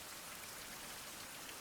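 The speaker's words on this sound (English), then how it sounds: "And it is raining conveniently, because we are a little bit low on water." Steady rain falls in a survival video game, a soft, even patter of many drops with no voices, low in level.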